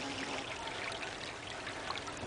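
A creek in Laurinburg with bottles and trash along its bank flows in a steady, close, broadband rush and trickle that continues for the whole stretch without pause, no voices.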